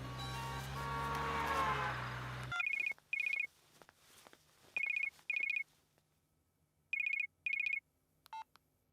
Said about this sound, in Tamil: வேலை பாலாக்கு ஃபோன் போடு.